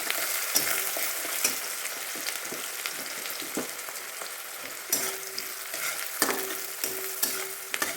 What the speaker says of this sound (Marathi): त्यात कांदा घालूया आपण परतून घेऊया कांदा